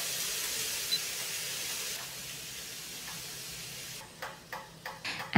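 Thick courgette strips brushed with oil grilling on an indoor grill, a faint steady hiss and sizzle, with a few soft clatters near the end.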